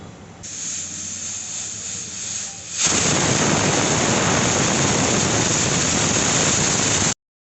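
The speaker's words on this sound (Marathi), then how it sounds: "आणि कुकरला चार ते पाच शिट्टी करून घ्यायची" A pressure cooker of horse gram curry vents steam in a steady, loud hiss that swells sharply after a softer opening and holds unbroken until it cuts off abruptly.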